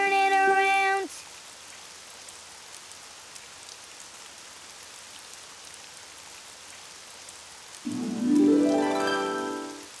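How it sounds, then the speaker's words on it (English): Rain falls in the Daniel Tiger's Neighborhood Spin and Sing children's game as a soft, steady patter, framed by short tonal musical jingles at the start and end. "Oh, it's raining outside."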